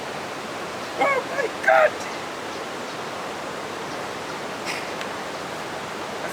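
An African waterfall used for traditional bathing pours down in a steady, loud, full rush of falling water. Near the start, a voice gives a brief excited exclamation.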